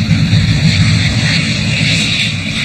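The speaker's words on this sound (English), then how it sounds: "and saw planes flying over." Airplane flying over a flight line, a steady broad engine roar with low rumble and hissing highs, loud and continuous throughout with no talk.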